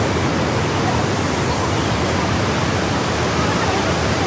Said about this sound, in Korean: 여기 앞에가 악마의 목구멍이라는 곳이에요.